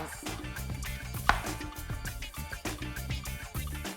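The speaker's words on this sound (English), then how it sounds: "We're gonna add these chopped apples to our salad." Knife chopping apples on a cutting board for a salad, a rapid steady series of close, crisp thuds with one sharper knock, no voices.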